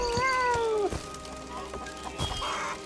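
A cat in the video game Sir Whoopass lets out a drawn-out, descending meow, close and clear, followed by thuds and muffled game noise.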